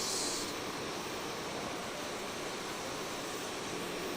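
An Aermacchi MB-339 jet in Microsoft Flight Simulator makes a low pass over an airfield, heard as a steady, broad roaring jet-engine rush that holds evenly throughout, with no talking.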